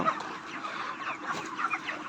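Broiler chickens at a poultry farm cluck softly and continuously, a low murmuring flock nearby with a few sharper calls, no voices.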